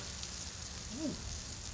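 Steady broadband sizzle of a patty melt frying in butter in a hot pan, continuous and fairly close, with a brief faint squeak near the middle.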